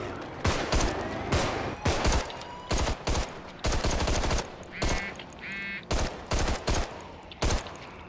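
Gunfire from the zombie shooter Contagion comes in loud, repeated bursts of shots separated by short pauses, with a few brief tonal game sounds in between.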